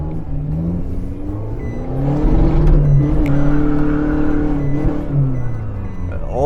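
A 2021 Isuzu D-Max 1.9 Space Cab pickup truck's engine hums and rises in pitch as it drives downhill, a steady close rumble with a brief swell of revving mid-way.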